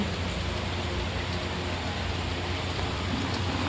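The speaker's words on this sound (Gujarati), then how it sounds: "આમ જુઓ તમે આ વરસાદ કેટલું મસ્ત વાદળું અંધાર્યું છે ને વરસાદી આવવાનું ચાલુ છે" Steady rain falls from dark, cloudy skies as an even, continuous hiss that holds at the same moderate level throughout, with no voices.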